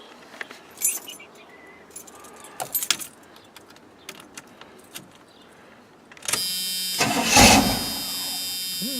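Keys jingle and click faintly before an engine is cranked without throttle on a warm day, a loud close starter whir with the engine struggling briefly toward catching.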